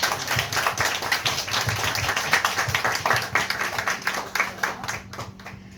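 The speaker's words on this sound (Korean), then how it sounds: "큰 박수 부탁드릴게요." Audience members at a Friday book talk clap for the author, a moderately close patter of individual hands with a distinct, somewhat uneven rhythm that thins out and fades toward the end.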